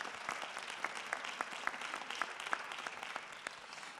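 Steady applause from an audience, many hands clapping at moderate distance with no voices over it.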